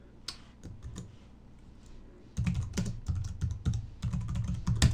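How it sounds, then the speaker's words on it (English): Typing on a computer keyboard while editing a bashrc file in the nano terminal editor, quick irregular clicks, sparse at first and then a dense, louder burst of keystrokes close up. "I can't talk and type, I'm starting to realise."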